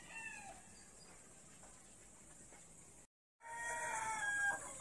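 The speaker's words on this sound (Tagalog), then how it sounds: "Isa din po to na native chicken po namin" Free-range native chickens cluck and call faintly at a distance in a quiet yard, with a brief gap of silence before louder clucking and crowing-like calls resume.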